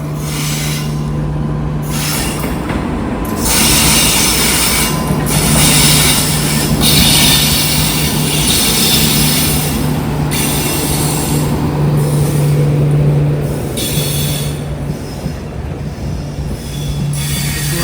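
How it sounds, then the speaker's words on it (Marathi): A train arriving from Goa at a small Ratnagiri station with no platform rolls past loudly and close, wheels clattering and brakes squealing steadily as it slows to a stop for a crossing. "गोव्याकडून आलेली ट्रेन आहे आता ही क्रॉसिंगसाठी थांबेल इथे"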